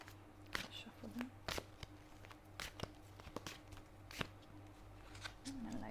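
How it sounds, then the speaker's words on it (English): Tarot cards being shuffled by hand, quiet riffling and slapping bursts in an irregular rhythm, close and soft in a calm room. "And then loads fell out, so I'm going to then shuffle those."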